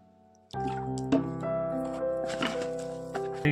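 Water is sprinkled onto a semolina-based fish bait mix, giving close, soft wet squishes and drips over a steady background hum.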